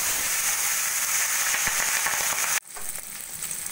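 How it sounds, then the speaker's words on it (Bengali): Pabda fish fry in hot oil in a kadai, a loud dense crackling sizzle that drops abruptly partway through, then continues at a softer, steadier fry. "এবার আমি দুটো দুটো করে মাছ ভেজে নেব"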